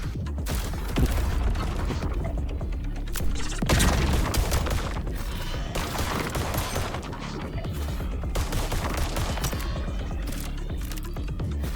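Rapid gunfire and heavy grenade blasts in the video game Void Breaker, a dense, continuous barrage of shots punctuated by booming explosions and mechanical clanks, loud and relentless throughout.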